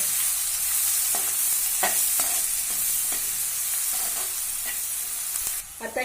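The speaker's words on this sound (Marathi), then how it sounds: "आता त्याच्यावरती आपण कांदा घालूया मस्त वास सुटलाय" Onion sizzling and frying in a pan over garlic already browned, with steady broadband hiss and a series of sharp stirring scrapes spaced through the sound, close and continuous with no talking.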